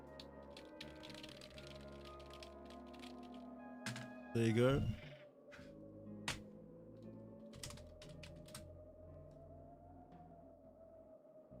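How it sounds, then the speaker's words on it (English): Computer keyboard keys tap in a light, uneven stream, fairly faint, over a soft background tone, with a louder burst partway through and a short spoken phrase. "here's some typing noises for you."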